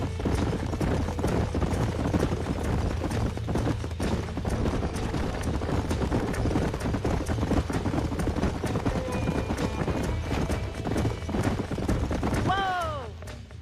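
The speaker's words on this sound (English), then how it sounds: "These are fine horses." Horses' hooves clip-clop in Red Dead Redemption on Xbox 360, a dense steady trot over game music and ambience, with a whinny rising near the end.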